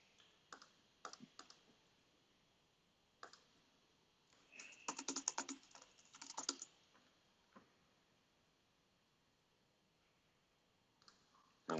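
A computer keyboard is tapped in short, scattered bursts of quiet clicks while an account is being set up, with a few denser flurries of keystrokes between pauses of near silence.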